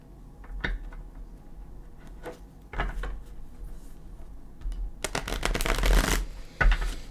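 Gilded Tarot cards being handled and shuffled by hand, with scattered soft riffles and taps building to a louder, sustained shuffling burst near the end, close and alone without talk.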